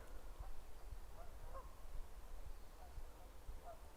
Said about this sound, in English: we have some geese down in Loch Venacher and they're making quite a